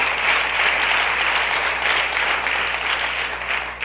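Loud, dense applause from a crowd at a live Resurrection celebration, continuous and steady throughout without any speech.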